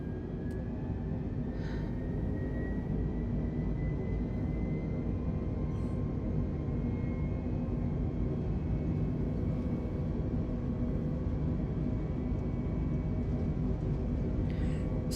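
Airliner engines in Microsoft Flight Simulator 2020 roar during a takeoff run from Gibraltar, a constant, dense low rumble that holds steady without letting up and has a few faint clicks over it.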